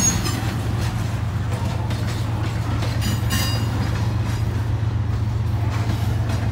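A CSX freight train rolls past with its rear distributed power locomotive, a loud, close diesel rumble under steady wheel noise and rattling railcars, with brief squeals.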